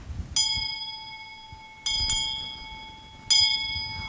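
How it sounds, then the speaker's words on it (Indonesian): A bright Christmas bell rings out several times, single and double strikes, each tone sustaining and ringing clearly with long shimmering decay, nearby and alone. "Oh, itu suara lonceng Natal"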